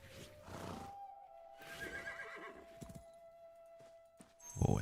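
A horse in the video game Where Winds Meet whinnies in a long, wavering neigh that rises and falls, then snorts, heard fairly close over soft background game ambience with a brief louder burst at the end.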